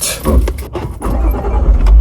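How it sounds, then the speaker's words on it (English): A car engine in an Acura RSX Type S fitted with a K24/K20 swap cranks and catches after earlier failed attempts, giving a loud, rough burst of starter whir and low rumble close by. "Please, start. Car. Start."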